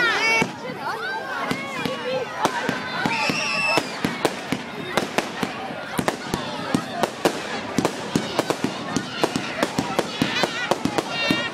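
Fireworks bang and crackle on bonfire night, sharp explosions coming in a rapid irregular barrage. Whistling rockets and crackling bursts are layered through the sequence, with voices faintly audible in the background.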